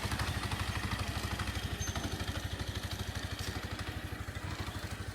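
A scooter engine idles close by in Vietnam with a steady, rapid putter of even pulses that holds for several seconds, with no voices.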